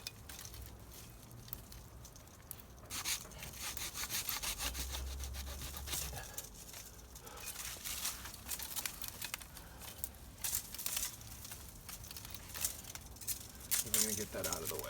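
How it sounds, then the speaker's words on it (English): Hand saw cutting through a rose branch during pruning, a quiet rasping rhythm of back-and-forth strokes with woody crackles, close by, while a person talks intermittently. "take your saw, and we're gonna go as low as we can"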